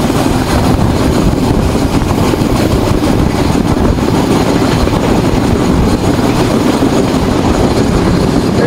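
Rupsha Express intercity train pulling out of Abdulpur Junction in Bangladesh, a steady loud rumble of wheels and engine that holds throughout without a break, with no voices heard.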